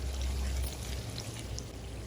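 Water pours steadily into a cooking pot of masala for Lahori-style chickpeas, a continuous soft splashing stream with no talking.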